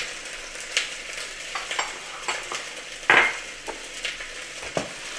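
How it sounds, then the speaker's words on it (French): Crushed garlic stirred in a cooking pot while cooking oxtail in peanut sauce, scraping and light sizzling textures with a few sharper utensil clinks against the pot, close and moderately quiet. "Voilà pour l'ail, on mélange un petit peu."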